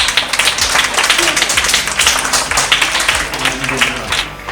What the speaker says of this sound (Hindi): अपने लिए जोरदार तालियां